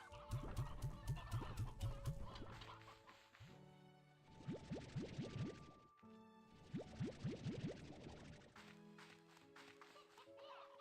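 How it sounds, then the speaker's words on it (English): Repeated bursts of clucking chickens, synthetic and game-like, overlapping in a busy cycling pattern with steady electronic tones underneath. "So many chickens."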